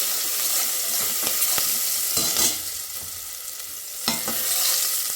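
Chili paste sautés in a hot pan with a steady sizzle, broken by several sharp scraping strokes of a spatula stirring it around.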